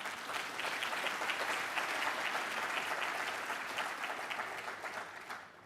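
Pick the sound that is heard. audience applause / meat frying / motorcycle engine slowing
audience applause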